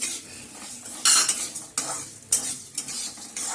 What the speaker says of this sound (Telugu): మెంతులు వేస్తున్నాను, ధనియాలు వేస్తున్నాను.